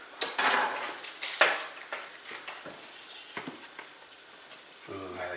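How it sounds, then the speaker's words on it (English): Flour sizzling and frying in a pan for homemade red enchilada sauce, with crackling hiss, clanks of a utensil against the pan and stirring scrapes, close by and fairly quiet. "Ooh, I like the sizzle."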